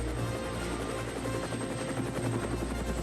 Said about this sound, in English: Suddenly there was a strange whirring sound.